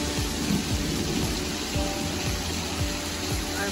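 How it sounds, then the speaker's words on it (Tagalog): Heavy rain pours steadily at Quayside on Sentosa, a dense, loud continuous hiss filling the whole clip, with low rumbles of thunder rolling underneath and no voices. "Grabe ang ulan."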